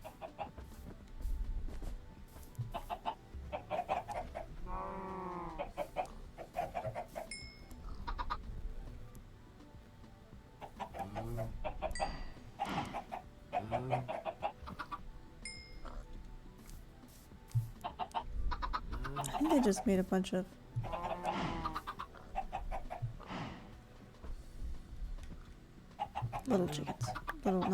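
Chickens in Minecraft being bred for feathers, several bursts of clucking scattered through, mixed with someone talking and other game sounds, moderately loud and close.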